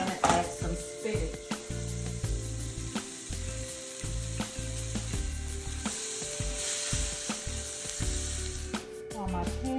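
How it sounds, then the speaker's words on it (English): Mushrooms and spinach sizzle steadily in a hot skillet, a continuous moderate frying hiss broken by occasional scrapes and clicks of stirring, with no talking. "Saute them a little bit. I'm also going to add some spinach."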